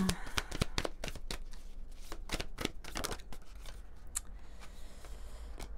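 Oracle cards being shuffled by hand, a rapid run of crisp riffling slaps close up, easing toward the end, with a voice speaking faintly underneath.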